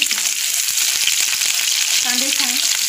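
Chopped onions sizzle and crackle loudly in a spoonful of hot oil in a kadhai, a close, continuous fry stirred now and then.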